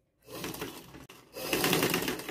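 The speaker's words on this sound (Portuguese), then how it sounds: "vamos fazer uma costura bem fininha, para prender o tecido e prender a cianinha aqui" A sewing machine runs a fine seam joining fabric and ric-rac trim on a face towel, with a steady mechanical whir, a brief pause and then a slightly louder burst of stitching.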